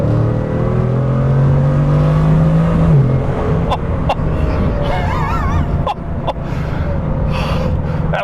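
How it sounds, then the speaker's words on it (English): Bugatti Chiron engine rises in a loud, smooth whine as the throttle is tapped and briefly floored, the pitch climbing then settling under a steady roar with a few sharp clicks and whistling turbo tones. "even just tapping the throttle, you can hear the engine start to do its thing."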